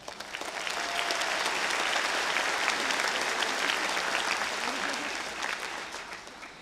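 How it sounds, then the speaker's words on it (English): An audience at a teachers' back-to-school meeting breaks into applause that swells quickly, holds as dense steady clapping, then tapers slightly toward the end. "You deserve a round of applause."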